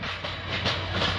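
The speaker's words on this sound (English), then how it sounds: "Where the hell is this train going?" A train runs along a rail line in the Greater Toronto Area, a loud, close, continuous rumble with rhythmic wheel clatter over the short stretch, without any voices.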